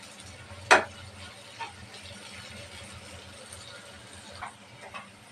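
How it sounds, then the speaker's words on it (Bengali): Chopped onion with a little salt fries in oil in a pan for a koi fish curry, giving a faint, steady sizzle with a sharp utensil click near the start and a few softer taps later. "তো সামান্য লবণ কুচি দিয়ে দেব, তাহলে পেঁয়াজটা তাড়াতাড়ি ভাজা হয়ে যায়।"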